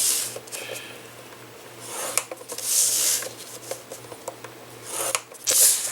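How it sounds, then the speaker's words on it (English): A scoring tool pressed along paper on a scoreboard for a 4 3/4 inch explosion box lid, heard as a few soft scraping and rubbing strokes in a quiet room. Light handling noises fall between the strokes. "Alright, that is all the scoring that you're going to do right now"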